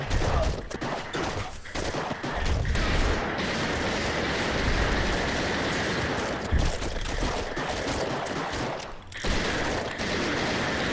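Gunfire in the VR video game Operation Serpens on an Oculus Quest 2, with dense sustained volleys of shots and short breaks, loud and continuous, no voices.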